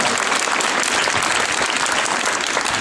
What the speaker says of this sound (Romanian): multe aplauze, vă rog, pentru elevii, pentru elevii din această școală